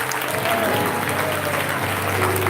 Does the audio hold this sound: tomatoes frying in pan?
no